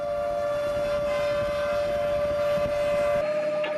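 A fire truck siren wails on a call-out in rush-hour traffic in Incheon, a loud steady tone held throughout and close by, with no talk over it.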